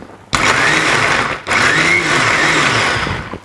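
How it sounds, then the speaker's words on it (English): An electric kitchen blender whirs loudly while blending momo chutney, running in two close bursts separated by a brief pause near the middle. "Put it in a blender and I'm just going to blend it."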